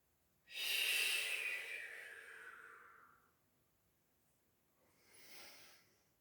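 A long, forceful exhale that slowly tapers off during a balance exercise, followed a few seconds later by a shorter, softer breath, close and quiet with no talking.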